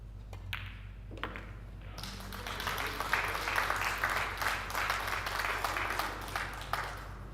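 A crowd at a 9-ball pool tournament in Austria breaks into applause after a pool shot, starting with a few scattered claps and a ball knock, then building into steady, moderately distant clapping that stays even until the end.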